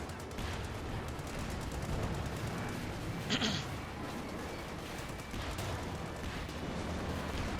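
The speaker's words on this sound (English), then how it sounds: "Light infantry gun there wiped Osman down" Battle ambience from Company of Heroes 2 gameplay, a light infantry gun among tanks and infantry: a continuous rumble of distant gunfire and explosions with one sharper crack and blast near the middle, fairly faint, no voices.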